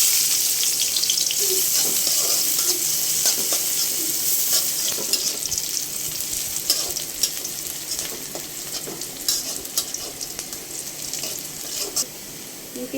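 Oil sizzles in a karai (wok) on the stove, a continuous crackling hiss with scattered pops and occasional clinks, at moderate volume with no talk.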